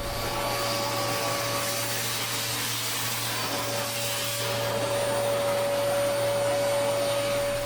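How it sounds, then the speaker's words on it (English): A loud, constant whine from a Prolux Phantom upright commercial vacuum cleaner picking up oatmeal, with a steady motor hum, running without pause throughout. "the Prolux Phantom upright commercial vacuum cleaner works just like any vacuum cleaner"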